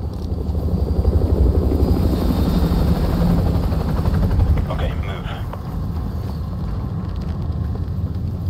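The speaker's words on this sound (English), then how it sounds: "Enemy helo patrolling the perimeter." An enemy helicopter in Call of Duty Modern Warfare 2 thunders with a dense, loud rotor rumble throughout, fading slightly toward the end, with radio voices underneath.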